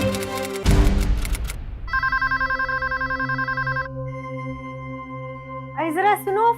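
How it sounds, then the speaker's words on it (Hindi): A telephone rings in a dramatized domestic scene, a repeated electronic trill pulsing loud and close after a crashing musical sting, with a voice breaking in at the end. "फोन बज रहा है कब से"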